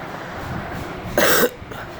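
A single short cough bursts out near the end of the clip, close and fairly loud against a quiet background hiss.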